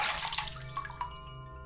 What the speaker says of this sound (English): Fill bucket with water.